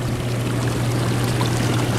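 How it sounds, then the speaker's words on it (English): Steady splashing pour of the two waterfalls on a 2012 Dynasty Bahama three-person spa hot tub, a constant close rush of water over a low pump hum with no voices. "And we can turn the waterfalls on."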